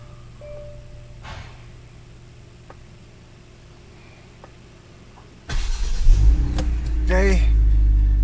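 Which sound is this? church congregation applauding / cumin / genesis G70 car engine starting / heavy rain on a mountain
genesis G70 car engine starting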